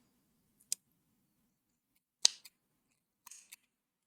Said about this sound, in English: Just cut this yarn, leave enough to sew,